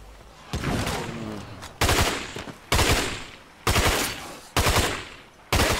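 Rapid automatic gunfire mowing down zombies in a shooter game, several loud bursts of rattling shots separated by brief pauses, with a voice talking faintly in the gaps.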